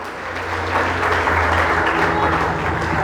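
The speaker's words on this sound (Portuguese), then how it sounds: "Quantos aplaudem a palavra de Deus?" A church congregation claps steadily and continuously during a sermon, a full, even roar of many hands that holds at a constant level throughout.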